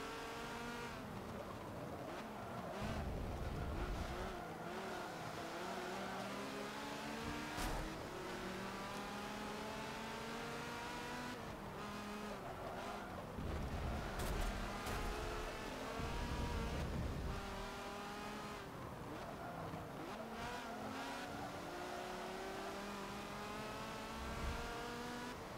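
Race cars in Forza Motorsport 7 speeding around a track, engines continuously revving up and down in rising sweeps through repeated gear changes, with occasional louder passes and no talk.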